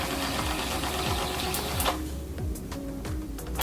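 A small toy beauty blender washing machine spins its drum, giving a continuous rapid mechanical whir with rattling ticks and a slight change in pitch partway through, close and fairly loud.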